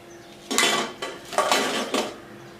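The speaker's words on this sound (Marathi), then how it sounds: "आता आपण ताटात काढून घेऊ याला." Fried methi bhaji are moved onto a plate, giving several close metallic clatters and scrapes of a utensil on dishware in quick separate bursts.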